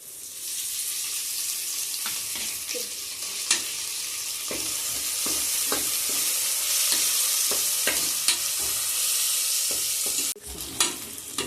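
Ginger garlic paste frying in a pan with a continuous sizzle, as a spoon keeps stirring and scraping the bottom with repeated sharp clicks and taps.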